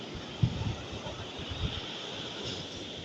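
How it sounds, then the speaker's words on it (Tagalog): Strong sea waves rolling in as a steady, roaring wash with wind buffeting the microphone, a couple of louder surges standing out near the start, no voices. "malakas ng alon"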